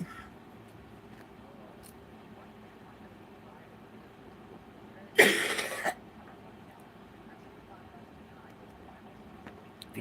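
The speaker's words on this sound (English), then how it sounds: "she's done coughing" A single short, harsh burst like a cough rises out of quiet background noise midway through, then fades back to a low hiss.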